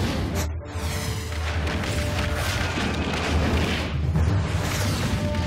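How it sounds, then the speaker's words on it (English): Missiles exploding in a video game, a dense run of loud rumbling booms and crashes that sweeps steadily across several seconds with no talking over it. "More missiles."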